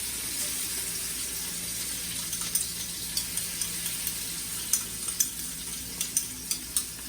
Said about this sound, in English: Gonna sizzle.